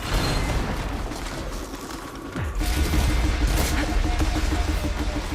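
Gunfire in Horizon Forbidden West, rapid bursts of shots with mechanical clatter and a heavy thump midway, loud and sustained, no speech heard.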